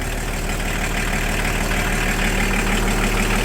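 A Volkswagen LT 40 van engine idling loudly nearby, with a continuous low rumble and even mechanical throb and no pauses.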